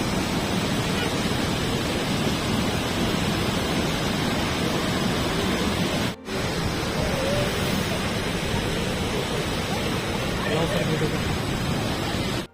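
Nuranang (Jang) Falls in Arunachal Pradesh, about 100 metres high, pours as a loud, steady broadband roar that fills the whole stretch, with a brief dropout midway.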